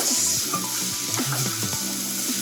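Garlic sautéing in a pan for mushroom risotto: a constant close sizzle with faint stirring sounds underneath, and no one speaking.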